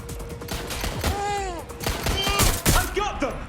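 Gunfire from a Watch Dogs: Legion shootout: bursts of shots crack through a dense mix of game sound and voices, steady and fairly loud across the stretch.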